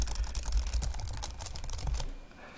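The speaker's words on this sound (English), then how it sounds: "I actually don't know what I'm typing." Fingers typing on a computer keyboard, a quick run of close, fairly soft key clicks that stops near the end.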